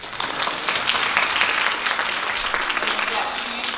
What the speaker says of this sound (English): Please give a clap for the Dessert Junkie.